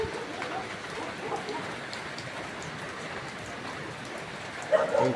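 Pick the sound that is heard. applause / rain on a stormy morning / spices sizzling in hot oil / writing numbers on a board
rain on a stormy morning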